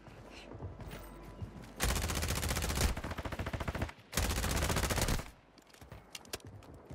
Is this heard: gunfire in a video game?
yes